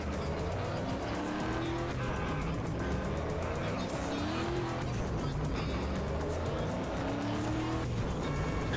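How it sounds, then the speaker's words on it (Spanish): A vehicle drifts in GTA San Andreas, its engine roaring loudly and continuously while tires squeal in rising, wavering whines that repeat several times, close and dense throughout. "Esperen, así derrapa esta"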